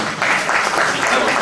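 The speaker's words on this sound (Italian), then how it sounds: "Un applauso al moderatore." An audience at a public referendum debate briefly applauds the moderator, a short burst of dense clapping that fills the room.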